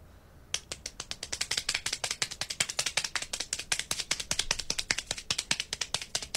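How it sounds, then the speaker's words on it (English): One person claps very fast, a long run of sharp, crisp claps in a rapid, steady rhythm, close and fairly loud, starting after a short quiet moment. "this is me clapping really fast."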